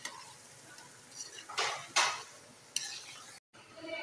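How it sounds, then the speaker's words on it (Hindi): Spoon stirring ground garam masala into potatoes in a pan, scraping and clinking against the metal in short irregular strokes, close and fairly quiet. "और साथ में जाएगा इसमें गरम मसाला पिसा हुआ, और इसको हम अच्छे से मिक्स कर लेंगे।"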